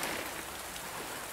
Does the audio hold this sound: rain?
yes